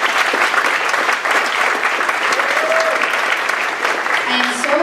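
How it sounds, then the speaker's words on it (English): A crowd at a middle school short film premiere gives a loud, sustained round of applause for student filmmakers, thick continuous clapping close by with faint voices mixed in underneath. "Let's have another round of applause for these talented students."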